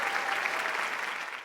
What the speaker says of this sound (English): Everybody give him a big, big round of applause.